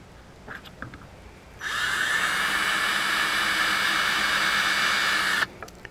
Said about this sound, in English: drilling some small random holes which just give the glue a place to park